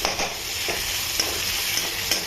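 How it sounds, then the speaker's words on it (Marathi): Onion frying in a pan for lasooni palak gives a steady, close sizzle with faint crackles and light stirring scrapes throughout. "कांदाही आपण छानपैकी आता परतून घेऊया."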